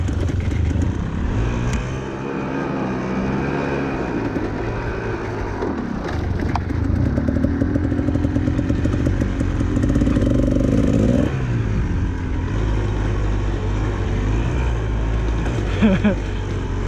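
A dirt bike engine climbs a dusty hill with another Husqvarna bike ahead, its close, loud motor revving and surging unevenly, with clattering bumps along the way.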